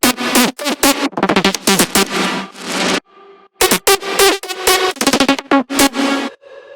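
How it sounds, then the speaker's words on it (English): Layered synthesizers from an electronic music track play in short rhythmic stabs and chords, bright and loud, with a brief quiet gap near the middle before the pattern resumes, no voices. "So let's show you the synths, which sound like this."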